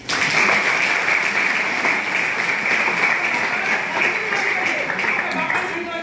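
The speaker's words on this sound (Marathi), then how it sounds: "एकदा टाळ्या वाजवा माझ्यासाठी" An audience at a motivational talk claps for the speaker, a dense, steady roar of applause lasting several seconds without pause, with voices mixed in.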